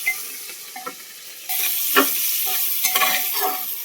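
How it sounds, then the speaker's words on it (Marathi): Onion, green chillies and whole spices such as cinnamon fry in oil, with a loud sizzle bursting in partway through and spoon scrapes stirring the pan at an uneven rhythm. "तर आपल्याला ना सगळं चांगलं तेलामध्ये मिक्स करून घ्यायचं."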